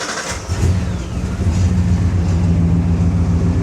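A truck engine rumbles loud and close, starting up and then holding a steady low drone as it idles and begins easing forward, with no talking over it.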